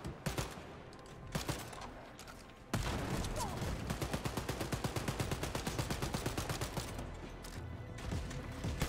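Gunfire in the shooter Wolfenstein Youngblood: a few separate shots, then a long, rapid run of evenly spaced automatic bursts, loud and steady, with faint talk behind.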